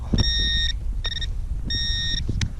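A metal detector sounds three electronic beep tones of differing length in a field while searching for buttons and relics, with faint rustling and handling noise underneath.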